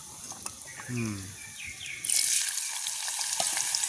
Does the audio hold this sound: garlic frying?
yes